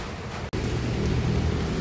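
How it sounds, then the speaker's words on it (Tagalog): Dense, steady hiss of heavy rain pouring down without pause, loud and close, broken only by a split-second dropout. "Lakas ng ulan."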